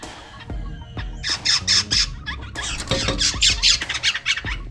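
Birds squawk in loud, rapid bursts close by at a window, a dense run of harsh repeated calls with no talking over them.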